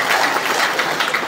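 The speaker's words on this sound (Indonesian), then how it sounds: "Sekali lagi tepuk tangan buat Maria." Audience applause at an official visit by a Ministry of Social Affairs director-general with the governor of West Sulawesi, with a steady, fairly loud patter of many hands clapping throughout.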